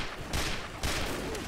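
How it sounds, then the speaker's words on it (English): Pistol fire in Team Fortress 2, two sharp close shots about half a second apart, each with a bright crack and short tail over steady game ambience. "I'm gonna just use my pistol now, I don't care."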